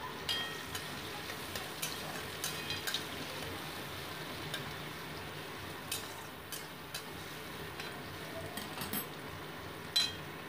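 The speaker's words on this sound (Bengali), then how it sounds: "এবার আমি কুচিয়ে রাখা পেঁয়াজটা তেলের ওপর দিয়ে দিলাম, দিয়ে পেঁয়াজটাকে হালকা ভেজে নিচ্ছি" Chopped onion frying in hot oil with cumin while cooking chicken curry, a soft continuous sizzle with occasional light clicks of a stirring utensil against the pan, fairly quiet and without talk.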